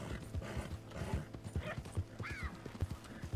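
Horse hooves clip-clop at a steady walking rhythm in the video game Red Dead Redemption 2, close and distinct, with a brief whinny partway through and no talk over it.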